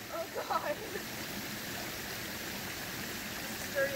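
Stream water rushing steadily at an Appalachian Trail crossing in Virginia, a broad continuous wash of flowing water close by, with faint bird chirps and brief voices over it.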